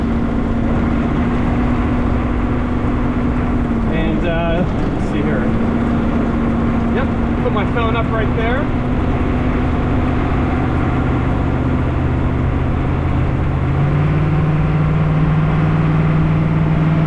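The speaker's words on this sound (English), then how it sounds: "It's mostly engine noise you hear." A 1987 AM General Humvee's diesel engine hums steadily from inside the cabin while driving, its pitch holding and then shifting with smooth gear changes, with someone talking over it.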